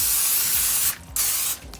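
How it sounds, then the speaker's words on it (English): Non-stick cooking spray hisses onto parchment paper in two close, steady bursts, the first long and the second shorter, with a brief pause between them. "I'm going to go in with a little bit of non-stick cooking spray because I don't want my Krabby Patties to get stuck to the paper."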